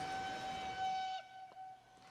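Train whistle in Transport Fever 2 blowing as a steady, loud tonal blast that cuts off suddenly just past a second, leaving a quieter hum with a faint fading tone afterward.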